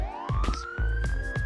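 Police-style sirens in the Second Life video game during a virtual wrestling show, a steady rising electronic wail heard close under faint background thumps and movement.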